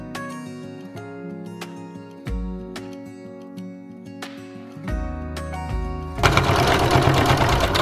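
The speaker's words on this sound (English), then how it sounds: "We're going to pin it and sew each of these sides." A sewing machine runs in close, loud bursts, stitching the side seams of an apron sewn from old denim jeans. The motor whirs through several runs that stop and restart, ending in a harsher, faster burst.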